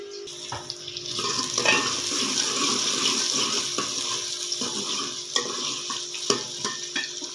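Onions frying in a pan until golden for a Punjabi-style cluster bean dish, a steady close sizzle with occasional stirring scrapes and clinks throughout.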